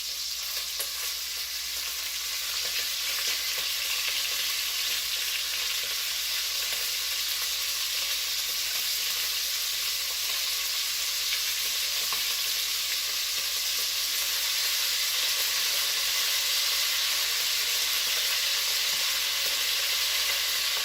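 Pieces of beef browning in a hot pot for beef bourguignon, a steady loud sizzle and fry that holds evenly throughout with no talk over it.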